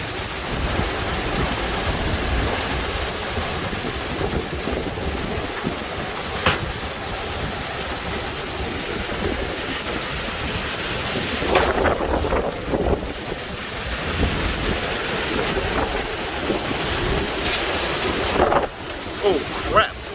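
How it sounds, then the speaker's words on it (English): Hurricane winds blow debris about on the Mississippi River, producing a loud, continuous roaring rush of wind buffeting the microphone, with gusts surging and easing throughout. "But stuff just blowing all over the place."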